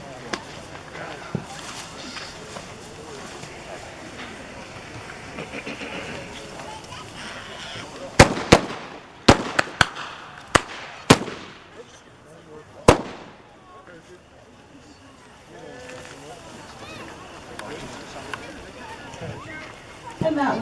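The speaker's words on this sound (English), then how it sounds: "It's a daytime firework, and it's for a bright star." Patriotic Skydive, a daytime consumer firework, fires a quick cluster of sharp, loud pops and bangs after a quieter lead-in, then fades to outdoor ambience, with people talking before and after.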